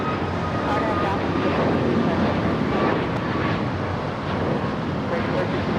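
An American airliner takes off from runway 25 Right at LAX, a broad, steady jet roar with wind buffeting that swells slightly and holds, while radio voices talk over it.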